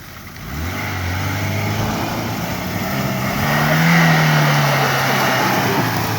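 Engine of a car drifting in a video game, a loud steady drone that rises and climbs in pitch as the throttle holds, with rough tyre-scrub texture underneath and no talk.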